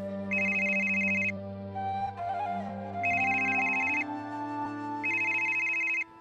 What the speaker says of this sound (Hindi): दफ्तर में काम के दौरान इम्तियाज को उसकी बीवी का फोन आया कि घर में पैसे नहीं हैं।